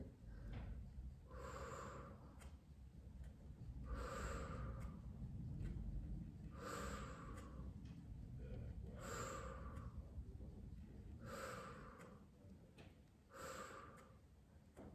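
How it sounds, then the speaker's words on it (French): Slow, deliberate breathing during an exercise routine, with steady airy exhales and inhales repeating roughly every two to three seconds, close and quiet, over a faint continuous background hum. "Tu vas presser, souffle, inspire, relâche."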